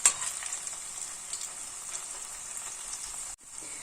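Potato cutlets frying in oil in a pan, a steady close sizzle with a brief sharp crackle at the start and a short dip near the end, no voices.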